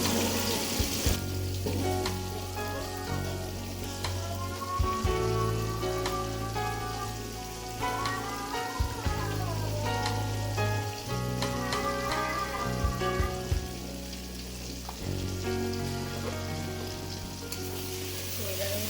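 Bottle gourd with ginger and garlic fries in a pan with spices: a steady, close sizzle that runs throughout, with occasional scraping from stirring and a low background hum.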